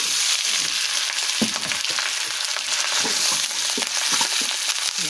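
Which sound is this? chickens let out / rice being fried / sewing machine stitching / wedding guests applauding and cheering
rice being fried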